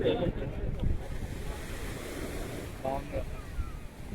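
Sea waves wash against the rocks at Rock Beach in Pondicherry, a steady surf hiss under gusty wind buffeting the microphone, with a few faint voices in the background.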